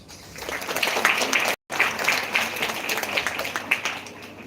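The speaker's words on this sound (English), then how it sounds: "Let us show our appreciation with a resounding round of applause" An audience claps warmly for a dance performance at a college women's empowerment event, with continuous, fairly loud applause and a brief cut in the middle.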